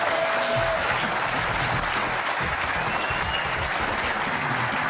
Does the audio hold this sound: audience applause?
yes